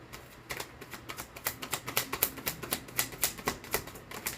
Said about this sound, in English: Let me get some more cards here.